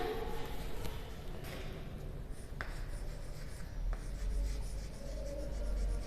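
Pen scratching out an answer during a science lesson, soft continuous scribbling with a few sharper taps, quiet and close under a low room hum.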